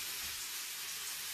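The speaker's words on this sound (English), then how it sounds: "Oh, you hear that sizzling? Broccoli sizzling away." Broccoli sizzling as it fries in oil in a pan over high heat: a steady, close, unbroken hiss that runs the whole way through, with no voices.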